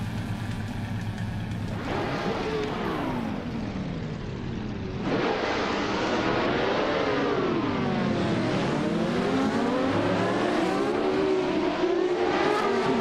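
AI-driven race cars from a racing video game roar around the Interlagos circuit, engines revving loudly and continuously with rising and falling pitch as cars shift and pass close by, no talk.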